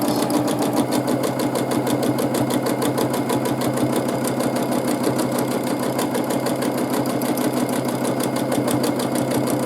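A sewing machine doing free motion quilting of overlapping circles runs continuously at a fast, even stitching rhythm, close and loud throughout with no talking.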